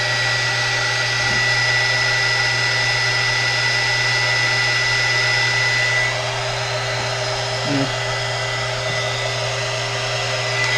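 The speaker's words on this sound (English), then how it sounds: "take a heat gun and see if this one's enough" A heat gun runs steadily at close range, warming a sticker on a cold metal box with a continuous blowing whir and a steady low hum, dropping slightly in level partway through.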